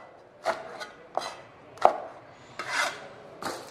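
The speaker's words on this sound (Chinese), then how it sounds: "准备小米辣几个，对半切开备用" A knife cuts small bird's eye chili peppers in half on a board, giving about six separate short crisp chops with quiet gaps between them, close and fairly soft.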